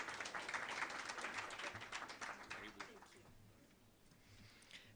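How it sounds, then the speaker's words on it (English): An audience claps at a trade and investment dialogue conference, with applause loudest at the start and fading over several seconds to a few scattered claps. "Please, ladies and gentlemen, give a round of applause to Madam Tracy Lane"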